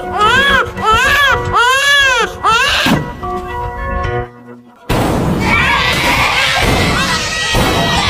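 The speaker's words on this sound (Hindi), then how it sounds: "उसे पीछे से एक बच्चे के रोने की आवाज सुनाई दी।" A baby wails in loud, repeated rising-and-falling cries, close and piercing, before the scene gives way to a noisy crowd-like wash, from a film set around Exit 8.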